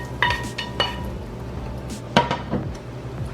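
Cooked onions for bibimbap are scraped and shifted from a pan into a tray, giving a few sharp clinks and scrapes of utensil against metal, spaced irregularly and fairly close.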